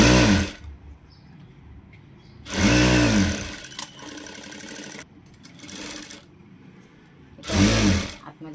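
A sewing machine stitches a princess-cut blouse in three loud, close bursts of rapid mechanical whirring, separated by quieter pauses with light handling and clicks.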